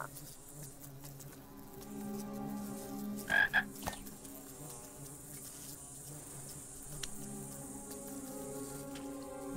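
A frog croaks in the King's Quest adventure game, a steady buzzing croak-like drone with a couple of brief sharp accents midway, moderately loud and with no talking.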